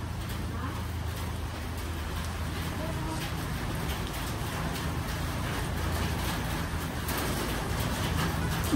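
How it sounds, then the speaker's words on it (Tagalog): Heavy rain falling outdoors in San Diego, California, a dense steady hiss and patter of drops on surfaces, continuous and moderately loud with faint background voices. "Lumakas ang ulan."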